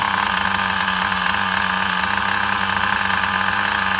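A Duratrax Overdrive ST 4WD nitro RC truck engine with a formerly clogged carburetor runs rich, a steady close-up buzzing drone with no break and no voices.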